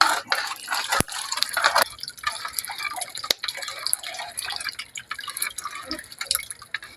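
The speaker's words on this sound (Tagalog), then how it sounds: "Ngayon, lalagyan natin ng dahan-dahan ng dugo." Pork blood is poured slowly into a simmering pork blood stew, producing a continuous close liquid trickle and splash with a few sharp clinks scattered through it.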